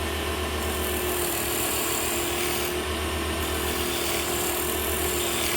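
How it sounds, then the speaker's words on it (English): A small round nose scraper cuts a wooden Christmas tree ornament spinning on a wood lathe, giving a steady close rasping scrape over the motor's constant hum, with no talk. "Now just a little round nose scraper."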